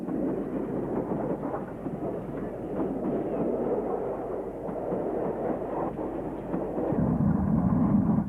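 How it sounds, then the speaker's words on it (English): A King-class steam locomotive built by Collett in 1927 rumbles past near Snow Hill, a steady, heavy low roar of wheels and carriages that swells toward the end. "one of the majestic King-class locomotives built by Collett in"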